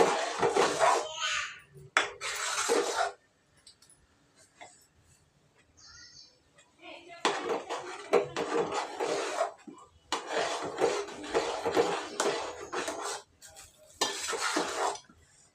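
A spoon scrapes and stirs kesari with sugar and milk in a pan, in bursts of rough rubbing and clinking separated by quiet gaps, close by.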